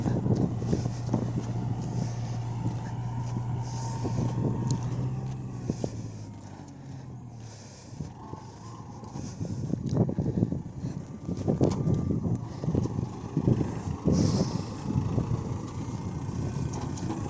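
A Kubota MU4501 45 hp tractor pulling a reversible plow uphill through soil, its engine holding a steady low drone that drops briefly and then returns rougher and louder, with wind buffeting the microphone.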